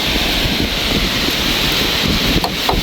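Wind blows outdoors in a forest setting, a continuous rumbling gust noise buffeting the microphone with faint rustling, holding steady and fairly loud throughout.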